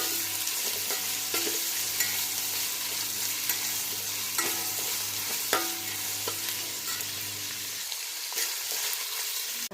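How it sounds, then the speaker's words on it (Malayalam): Onion, ginger, garlic, tomato, green chilli and curry leaves sauté in a pan for a Kerala-style chicken dish, giving a loud, steady sizzle with repeated stirring scrapes throughout. "എടുത്തു വെച്ചിട്ടുള്ള സവോള, ഇഞ്ചി, വെളുത്തുള്ളി, തക്കാളി, പച്ചമുളക്, കറിവേപ്പില ഇതെല്ലാം കൂടി എടുത്ത് നമുക്ക് വഴറ്റിയെടുക്കാം."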